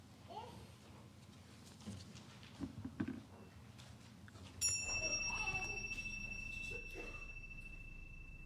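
Bright chimes ring out in a church service with sustained high tones, layered over soft murmuring voices and room noise, fading slowly.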